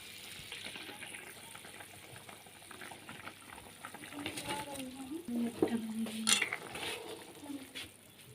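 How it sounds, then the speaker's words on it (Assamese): Fish pieces are dropped into water boiling on high flame in a pot, a soft bubbling hiss broken by a few splashes and clinks of utensils as someone talks quietly over it. "এতিয়া মই দি দিম মাছ কেইপিচ।"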